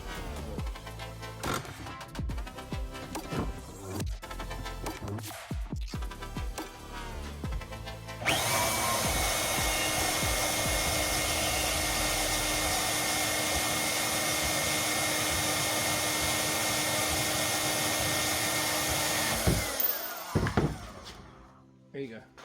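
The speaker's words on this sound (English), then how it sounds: "and we're going to weld them together" Welding two headless bolts together while building custom rock sliders: a long, steady, loud buzzing hiss holds for about twelve seconds after a stretch of clattering shop noise and talk, then cuts off abruptly.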